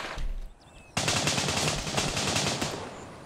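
Sustained automatic gunfire in the military shooter Gray Zone Warfare, a dense loud burst of rapid shots running almost continuously after a brief quieter lead-in.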